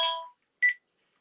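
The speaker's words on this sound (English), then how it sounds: "This is like our old Ringtone 1. And this is my favourite version of Ringtone 1." Ringtone 1 from a 402 TGA telephone handset: a short burst of bright electronic tones, a brief pause, then a second, shorter beep, clear and alone.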